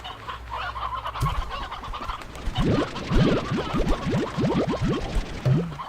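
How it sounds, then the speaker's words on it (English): A small chicken clucks close by in a rapid run of short, repeated calls, growing busier partway through, with no one talking over it. "Back here, small chicken."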